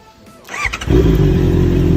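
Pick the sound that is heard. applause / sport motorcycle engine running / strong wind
sport motorcycle engine running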